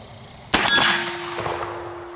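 An Armi San Marco 3rd Model Dragoon Buntline black powder revolver with a shoulder stock fires a single sharp, loud shot outdoors, followed by a ringing decay.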